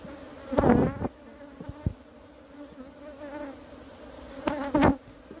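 Honey bees buzz around an open hive during reboxing from a 7-frame box into a 10-frame brood box, a steady close insect drone with two louder swells as bees fly near.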